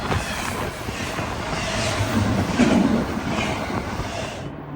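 Heavy freight train of about 18,000 tons rolling past on a downhill grade near Clemson in the South Carolina Upstate, a loud, continuous rumble and rush of wheels with clattering rail noise, fading slightly at the end.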